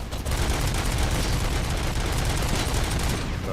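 A turret fires in the RoboCop: Rogue City video game, rapid continuous gunfire rattling steadily at a fairly loud level for several seconds.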